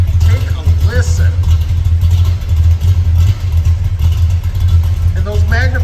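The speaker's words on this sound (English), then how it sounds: "those Magnaflow mufflers give it a really nice sound to it" A 1966 Pontiac GTO tribute with over 500 horsepower idles through Magnaflow mufflers, giving a steady, heavy low exhaust rumble close by that carries on throughout, with a voice speaking over it now and then.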